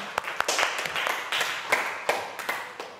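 A small classroom group claps for a student, a short run of sharp uneven hand claps that stays fairly close and moderate in loudness, with no voices over it.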